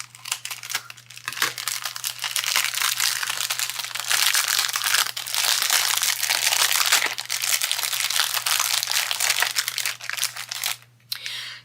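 A taped-up Amazon package is unwrapped close by, with dense crinkling, crunching and tearing of plastic and tape for several seconds, a steady low hum beneath and a brief pause near the end.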